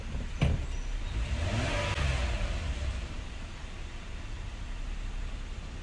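A 2015 Kia Sorento SXL, recovered after flood damage, idles steadily nearby as a soft, even hum inside a broad wash of background noise, with one faint click near the start.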